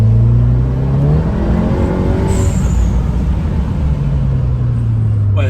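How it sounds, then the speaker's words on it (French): A Volkswagen Golf accelerates hard in second gear with the pedal floored, its engine note climbing steadily in pitch as the revs rise, loud, close and continuous. "je vous fais une dernière petite accélération en deux, pied dedans bien comme il faut"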